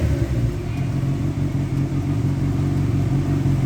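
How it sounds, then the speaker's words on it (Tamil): A vehicle driving with 63 nails screwed into its tyre gives a steady, close, low engine rumble that holds at an even level throughout, with no voices. "நம்ம வண்டி ஓடிக்கிட்டே இருக்க சவுண்டு உங்களுக்கு கேட்கும்"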